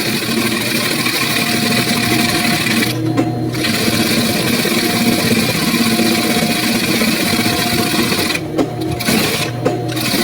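A sewing machine stitches a folded churidar neck piece, running steadily at close range with a continuous mechanical whir that pauses briefly twice.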